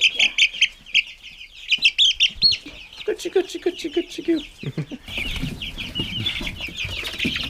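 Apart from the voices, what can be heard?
chickens clucking in a brooding room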